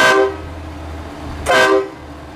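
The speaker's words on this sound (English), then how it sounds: "it turns on the train horn" Two short, loud blasts of a deep train horn fitted to a Ford F-650 truck, close by, separated by a brief pause with a low engine hum underneath.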